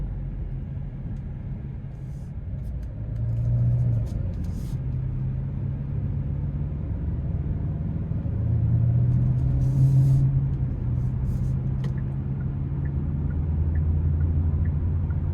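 Steady low engine drone and road rumble from inside a moving 2026 Genesis G70 2.5T, swelling slightly as it accelerates, continuous throughout with no talking.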